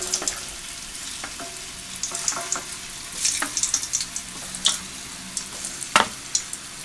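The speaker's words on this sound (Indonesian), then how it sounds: "Kita goreng di api sedang aja." Misro, sweet Sundanese cassava dough snacks, fry in hot oil over medium heat, giving a steady close sizzle dotted with sharper crackles and pops, with no talking.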